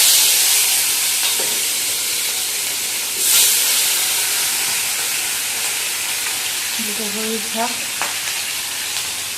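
Fish frying in a hot pan in a home kitchen, a steady loud sizzle and hiss throughout, with a brief spoken word and a faint tonal chirp near the end.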